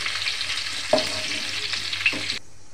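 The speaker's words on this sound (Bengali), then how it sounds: "ফুলকপি ভাজা গরম তেলের মধ্যে" Cauliflower pieces seasoned with salt and turmeric fry in hot oil with a loud, steady sizzle, broken by two stirring scrapes before the sound cuts off abruptly.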